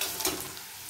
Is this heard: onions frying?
yes